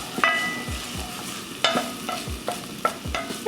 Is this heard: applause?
no